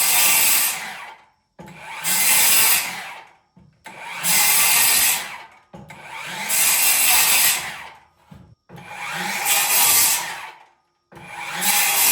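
A power saw whines through a wood board, shaving down its thickness in six repeated cutting passes of a second or two each, separated by short silent pauses.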